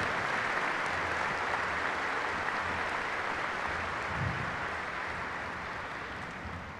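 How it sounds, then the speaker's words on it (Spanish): Congregation applause at a Sunday Mass in a church, a steady wash of many hands clapping that holds evenly for several seconds, then tapers slightly at the end. "Démosles un caluroso aplauso a todos los abuelitos, a todos los ancianos aquí presentes."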